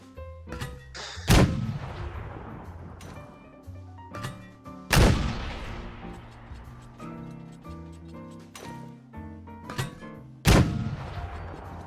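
Booming gunshots ring out at spaced intervals in PUBG, four heavy blasts with echoing tails, mixed with lighter clicks and game sound effects.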